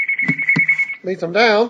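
A phone rings near a computer with a steady electronic tone that breaks off, and someone talks over it.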